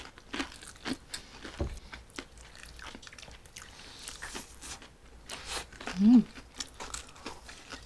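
Crisp crunching bites of fried crispy food, likely Chinese-style fried pork, chewed close to the mic in a few bursts, with light murmurs and laughter between bites at a casual meal.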